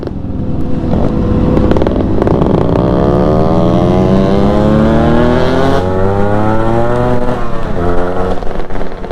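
Group of Yamaha RX two-stroke motorcycles riding together, a loud, close, overlapping buzz of several engines whose pitch climbs steadily as they accelerate, then eases off near the end.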